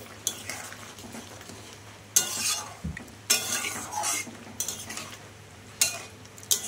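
Roasted spice powder of cumin, coriander, dried red chilli and bay leaf being stirred into a yam curry with hilsa fish head, giving soft scraping and clinking strokes against the pan in several short bursts over a low steady hum.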